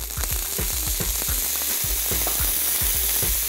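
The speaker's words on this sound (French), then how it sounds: "Enfin, les petits pois. Juste le temps de les réchauffer." Green peas warming in a frying pan rattle and patter in quick repeated bursts over a steady low sizzle, as if tossed or stirred close up.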